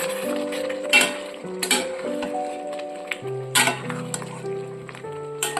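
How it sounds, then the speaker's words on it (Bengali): A pointed gourd and potato curry with coconut, sugar and salt being mixed in a pan, with intermittent scraping and clinking stirs over steady tonal hum and faint sizzle. "প্রয়োজন মতো দিয়ে দিচ্ছি নুন এবার খুব ভালো করে মিশিয়ে নেব"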